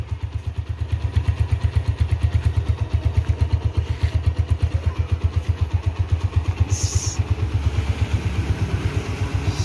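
A 2008 first-generation Honda Tiger Evolution motorcycle in red Special Edition trim, its engine revving in rapid rhythmic pulses, close and loud, holding a steady throbbing beat for several seconds with a brief higher noise near the end.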